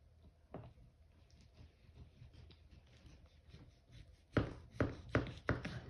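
A knife slicing fat from a brisket, with quiet scraping strokes that build into several sharper cutting sounds near the end, close and without talking.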